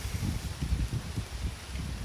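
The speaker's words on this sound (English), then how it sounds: "it's being windy again. Hopefully it doesn't distort the mic like it did earlier" Gusty outdoor wind buffeting a microphone, a steady low rumbling roar with irregular thumping pulses, loud and close, with no talking.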